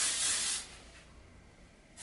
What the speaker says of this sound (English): I just spray it in my hair for some volume.